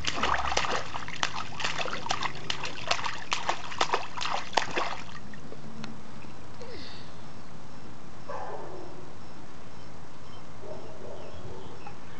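A child swims and splashes in water, giving a burst of rapid sloshing splashes for about five seconds, then quieter water movement with faint voices in the background.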